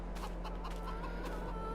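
Chickens clucking in a farming game, a steady run of soft, repeated clucks over a constant low hum, with no talk.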